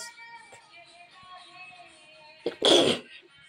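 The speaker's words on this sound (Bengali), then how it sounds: "ঠান্ডা লেগে গেছে বন্ধুরা, কাশি হচ্ছে" A person with a cold coughs once loudly and harshly near the end, after a short throat-clearing catch, over a steady faint background hum.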